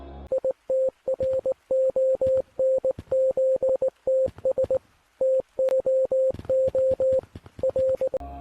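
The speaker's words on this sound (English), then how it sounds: "whenever this gorilla spawns, it gives you Morse code" A gorilla in the Capuchin Company video game sends a Morse code signal: clean electronic beeps in short and long pulses, grouped with brief pauses, rhythmic and steady with nothing else heard.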